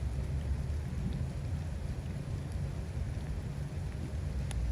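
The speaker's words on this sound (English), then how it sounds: "Oh, it's raining, everybody." Steady, dense rain falls outdoors, a continuous broadband hiss with scattered close drop impacts and no talking.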